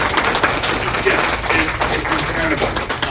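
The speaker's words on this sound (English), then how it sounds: "can we just get a round of applause for GenreBlast and Ricky?" A festival crowd at GenreBlast applauds, dense steady clapping that carries through the whole clip with some cheering mixed in.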